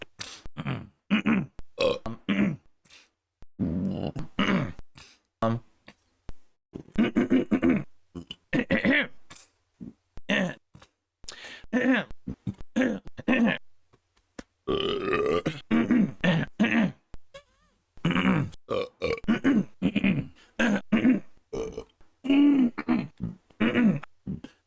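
A man burps again and again into a close microphone during a podcast, producing long strings of loud, gurgling belches with throat noises spread across the whole stretch.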